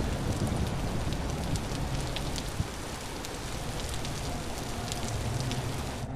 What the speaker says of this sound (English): I'll turn down the weather sound level so that we don't have to hear the distorted rain while we do this.